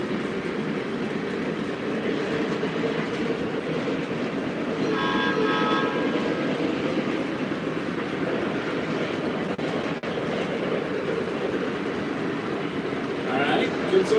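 Four O-gauge model trains running together on a home layout, a steady rolling rumble and clatter of wheels on track with a brief horn toot midway, heard under a man's speech.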